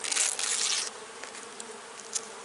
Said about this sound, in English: There are bees all over, not so many bees over here though.